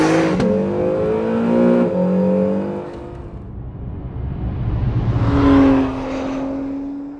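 An Acura with Super Handling All-Wheel Drive launching hard, its engine revving loudly up through the gears, a rising whine that drops at a shift and then climbs again close by.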